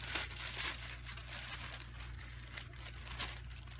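A plastic bag holding fish breather bags is opened and handled, giving close crinkling and rustling with a few sharper crackles over a low background hum.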